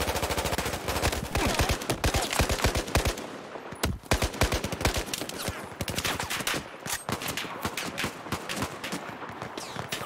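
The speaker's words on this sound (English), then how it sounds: "Whole lot of guns clapping!" Battlefield 4 gunfire rattles in rapid machine-gun bursts and scattered single shots, loud and close, with brief pauses between volleys.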